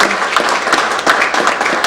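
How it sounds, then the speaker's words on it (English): Full, loud audience applause at a meeting, a dense continuous wash of many hands clapping at close range, with no speech. "a round of applause for appreciation and congratulations"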